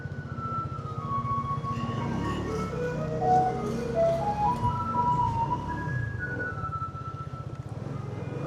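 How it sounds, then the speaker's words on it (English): Garbage truck in Zhudong City, Taiwan playing its melodic chime tune, a bright repeating jingle heard clearly from just behind the truck over steady engine and traffic rumble. "We're back behind the garbage truck again."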